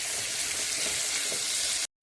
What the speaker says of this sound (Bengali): বেগুনটা এখন আমি সুন্দর লাল লাল করে ভেজে নেব